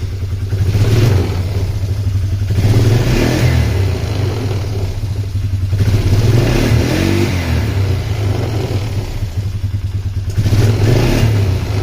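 A Polaris Trailblazer ATV engine is revved up several times, loud and close, its pitch and volume rising in repeated surges before settling back to a rough idle between blips.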